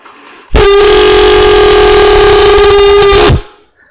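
A loud, sustained horn-like chord blasts for about three seconds, imitating a train horn, then cuts off abruptly.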